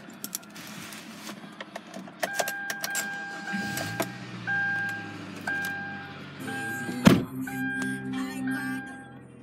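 A manual-transmission 2013 Kia Forte with about 76,000 km, its engine cranked and started, then idling with a steady low hum, while chime tones sound repeatedly from the dashboard, close inside the cabin.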